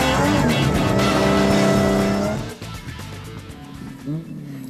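Off-road race car in a Class B desert race, engine roaring loud and close with harmonic whine for about two and a half seconds, then dropping to a lower, distant rumble with a brief rise near the end.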